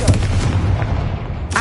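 A blasting-spell explosion effect from a Harry Potter game fires off as a short, punchy boom with a rumbling tail, then a second burst begins right at the end.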